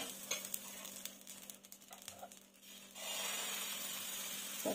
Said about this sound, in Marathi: आपल्याला तव्यावर थोडंसं पाणी घालून घेऊ.